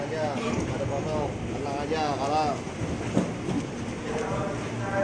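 KRL Commuter Line electric train of eight cars pulling away on an Indonesian commuter line in the early morning, a steady rumble with rising, whining motor tones heard from inside the car, a voice talking over it.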